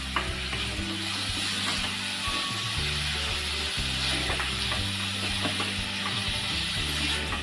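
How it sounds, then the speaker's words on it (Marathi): Chopped banana flower vegetable sizzles and fries in a pan while being stirred, with a steady close hiss and scraping, rhythmic stirring knocks throughout and no talking. "आता ही व्यवस्थित अशी मिक्स करून घेऊया."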